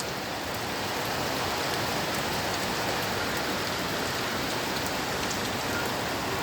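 Heavy rain falls at midnight in Sylhet, a constant, even hiss of drops on surfaces with scattered brief ticks. No one speaks.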